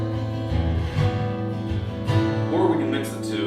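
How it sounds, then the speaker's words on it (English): A TogaMan guitar viol prototype played through its Graphtec Ghost Acoustophonic bridge pickup for an acoustic tone, several plucked or bowed notes and chord changes ringing close and clear. "what that means is we can get an acoustic sound like this,"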